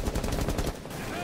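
Rapid automatic gunfire in Rainbow Six Siege, shot through a wall at an enemy, rattles off as a fast, loud burst of evenly spaced shots over about three-quarters of a second, then cuts off.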